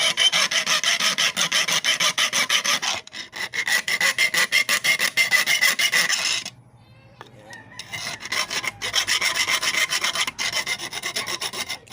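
A three-cornered metal file rasping a hole in an engine part, with rapid rhythmic back-and-forth strokes up close, a short pause partway through, then more vigorous filing.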